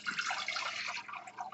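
Two cups of water pour from a bowl into a soup pan, a short, close, continuous splashing stream that tapers off toward the end.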